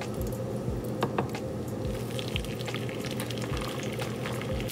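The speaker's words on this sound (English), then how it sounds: "I'm just going to put in some butter in my pan and then fry or cook my salmon." Salmon fries in melted butter in a pan, a steady, close sizzle with fine crackles and pops running throughout and no talking.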